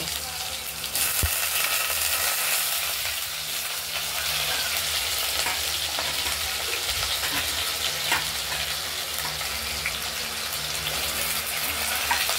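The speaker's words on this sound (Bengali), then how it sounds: "এবার আলুটা ভেজে নেব।" Potatoes fry in a pan with a steady, loud sizzle that runs the whole way through, broken by occasional stirring scrapes and no voices.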